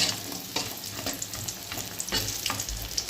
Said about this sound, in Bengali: এবার এই তেলে বড়িগুলোকে ভেজে নেব